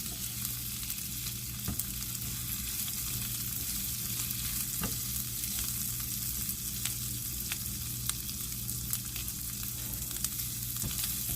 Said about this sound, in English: I'm going to just let these simmer in this butter and garlic